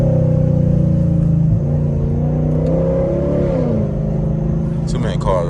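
A straight-piped Camaro SS V8 rumbles loudly, then revs and accelerates on a city street at night while the driver tries for wheel spin, and the engine note rises and falls close up.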